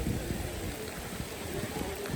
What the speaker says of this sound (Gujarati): વરસાદી માહોલ છે